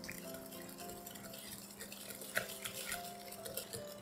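Eggs being stirred into chocolate cookie batter in a bowl, producing faint wet swishing and soft clinks of a utensil against the bowl, quiet and close with no talk.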